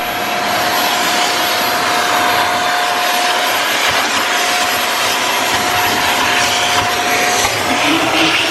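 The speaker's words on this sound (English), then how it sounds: "doesn't hurt to vacuum your car just a little bit" Vacuum cleaner running inside a Mazda RX7 interior, a loud, steady roaring whine held close throughout with slight shifts in tone as the nozzle moves, no talking.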